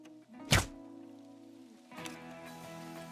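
An arrow strikes a bear in the Call of the Wild hunting game, a single sharp thunk landing near and loud, followed by quieter ambient rustle.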